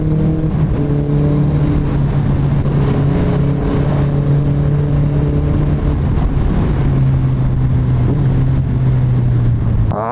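A Suzuki Hayabusa fitted with a Two Brothers exhaust roars continuously from close by, a loud, steady engine drone whose pitch shifts as the rider rolls the throttle on and off.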